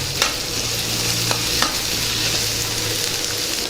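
Chopped onions, green chillies and curry leaves sizzle loudly in hot oil while a spoon stirs them, for a dense, continuous frying hiss with a few scraping strokes as the base for a cauliflower and green pea curry.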